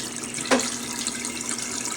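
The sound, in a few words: Haier HLP21N washing machine draining water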